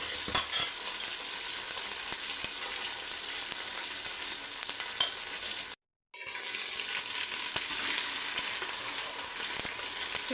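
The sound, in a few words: marinated chicken frying in oil for biryani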